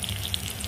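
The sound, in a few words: bitter gourds frying in oil in a hot pan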